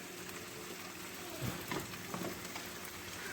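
Jamaican jerk carp frying in a pan, a steady soft sizzle with a few brief louder crackles as the fish shifts, close and without talk.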